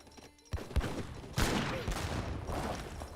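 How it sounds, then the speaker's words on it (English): Heavy cannon fire from the Age of Empires 3 strategy game hits villagers, giving a few booming thuds over a dense clatter of distant musket volleys and battle noise. "Heavy cannon does get a good hit there on the villagers."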